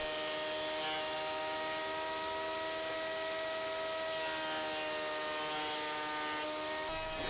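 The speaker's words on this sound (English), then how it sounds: "I'm milling each board by flattening one side on the planer" A planer flattens one side of a wooden board, a steady loud mechanical whine with sustained tonal harmonics and a broad hiss of cutting, continuing without pause.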